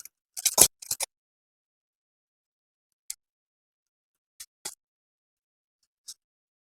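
Scissors snip through plastic basket-weaving wire: a quick cluster of crisp cuts at the start, then four isolated single snips spaced a second or so apart against near silence.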